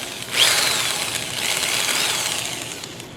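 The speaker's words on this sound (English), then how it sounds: "Oh, drill's going the wrong way." A power drill, spinning the wrong way, whirs steadily for a few seconds while trying to start a Harbor Freight Storm Cat 2-cycle generator. Its pitch jumps as it spins up, then settles into a sustained high whine.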